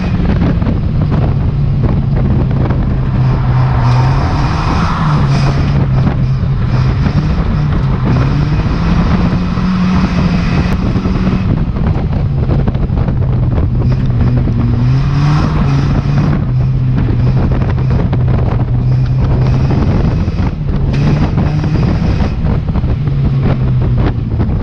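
A race car engine drones steadily from on board during a race, its pitch rising and falling with the gears, almost buried under loud, continuous wind buffeting; no voices.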